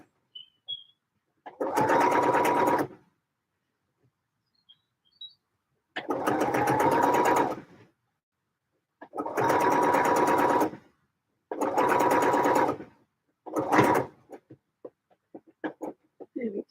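Sewing machine basting the sides of a fabric piece into place, running in four long steady bursts and one short burst, with quiet pauses between them.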